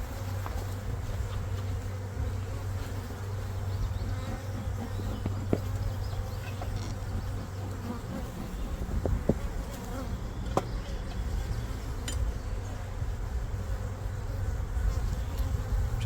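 Honey bees buzzing around a spring nuc hive in an apiary, a continuous dense hum of many insects with a few individual bees passing close, steady throughout and without voices.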